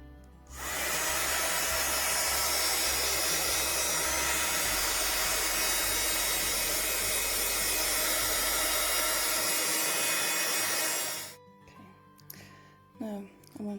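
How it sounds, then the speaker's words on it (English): A heat gun roars with a loud, steady airy blast for about ten seconds during art journaling, then cuts off abruptly, leaving faint clatter and rustling. "I have a heat gun here"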